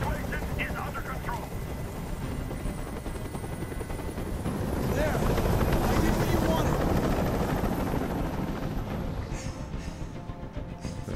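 Helicopter hovering in the video game Detroit: Become Human, a steady loud rotor drone that swells in the middle, with people talking over it.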